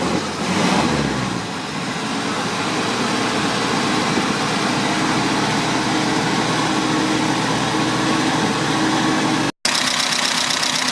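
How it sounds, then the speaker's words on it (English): A Morris Minor sidevalve engine runs steadily after a head gasket replacement, a close, continuous engine note holding even throughout, broken only by a brief dropout near the end. "Running perfect, just like the day it was made."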